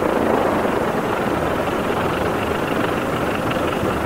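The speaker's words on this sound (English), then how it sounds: "This will kill the engine." A light aircraft's piston engine runs at a steady, rough idle with a constant propeller drone while its mixture control is pulled to lean to shut it down, loud and close with no clear cutoff yet.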